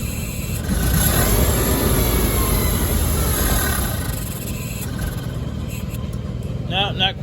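An old tractor engine runs loud and close with a rough, steady rumble that eases slightly partway through, then settles to a lower idle while someone speaks briefly near the end.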